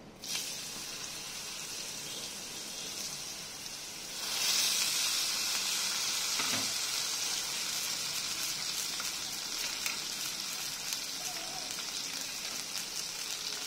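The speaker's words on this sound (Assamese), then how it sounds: "এতিয়া মই মাছ ভজা তেলখিনিতে অলপমান পাঁচফোৰণ দি দিম। আৰু কাটি থোৱা জিকা আলুখিনিও দি দিম।" Panch phoron spices, cut ridge gourd and potatoes hit hot leftover fish-frying oil: a steady sizzle jumps louder about four seconds in and keeps hissing and crackling up close.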